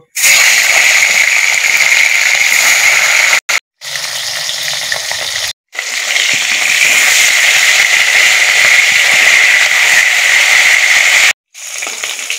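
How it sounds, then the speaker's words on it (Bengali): Fish sizzling and spitting in hot mustard oil in a wok, a loud steady crackle broken by a few brief silences, with no talk. "মাছগুলো আমি ভেজে নেব।"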